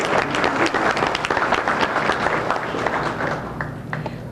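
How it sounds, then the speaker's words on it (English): Audience at a co-op students' banquet applauding a student speaker, a dense, steady round of clapping from many hands that holds fairly even and thins slightly toward the end. "let's give her a nice round of applause."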